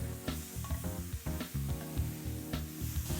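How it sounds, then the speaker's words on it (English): Leeks and fennel sizzle steadily in hot chicken fat in a pan for a braise, a close, continuous frying crackle with occasional stirring scrapes. "And then I'm gonna add in some leeks and the fennel."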